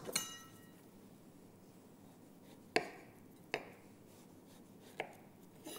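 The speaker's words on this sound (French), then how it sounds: "Et on va maintenant faire de fines tranches." A knife slices a peeled mango into thin slices about 3–4 mm thick on a cutting board; a few sharp, isolated cuts land against the board amid quiet background hiss.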